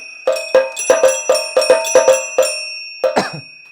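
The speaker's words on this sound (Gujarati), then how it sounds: "અહીંયા આ જો નીચે વગાડીએ ને એટલે ઝાલર ને એ બધું વાગે" An electronic mini aarti machine sounds a bell and jhalar, with sharp metallic strikes in a quick irregular series of about ten, each ringing briefly, loud and close with no voices.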